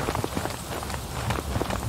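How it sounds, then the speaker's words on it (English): Steady rain pours in the Max Payne video game, a dense hiss of drops spattering on surfaces with faint scuffing steps mixed in, continuous and close. "Raining cats and dogs here."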